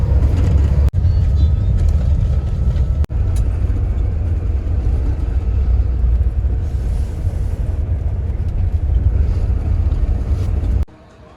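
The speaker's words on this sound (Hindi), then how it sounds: "12:34 पर गाड़ी हमारी जो है वो अड्डे से निकल पड़ी है" Interior of an intercity bus travelling from Sialkot toward Rawalpindi at night, loud continuous low engine and road rumble with wind noise, a few sharp knocks, then dropping quieter near the end.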